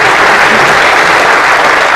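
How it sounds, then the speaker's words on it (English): Loud, steady applause from a crowd at a high school fall sports awards event, continuous clapping filling the whole moment with no voices. "give her a round of applause for that"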